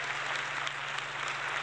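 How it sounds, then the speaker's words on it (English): Virtual audience sound effect of a crowd clapping and cheering during a live retro gaming stream, dense continuous applause at moderate level throughout, with a low steady hum beneath. "I'll let my virtual audience finish clapping and cheering first."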